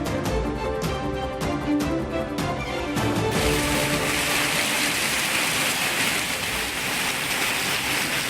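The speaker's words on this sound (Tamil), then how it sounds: "தூத்துக்குடி மாவட்டம் சாத்தான்குளத்தில் 1 மணி நேரம் கனமழை. சாலைகளில் பெருக்கெடுத்து ஓடிய மழைநீர்." Heavy rain pours in Sathankulam, Thoothukudi district, with rainwater flowing over roads, a dense steady hiss heard first beneath rhythmic news music stings and then alone.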